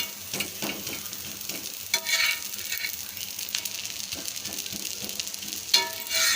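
A dosa sizzling steadily on a hot pan, with scraping taps of a spatula as it is loosened and lifted off.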